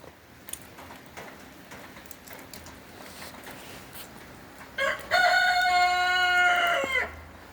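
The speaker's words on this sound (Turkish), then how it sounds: "Arada bir çil horozun sesini duyuyorsunuz." A speckled rooster crows once, loud and close, a long drawn-out call rising and holding before cutting off, after a stretch of quiet outdoor ambience on a snowy day.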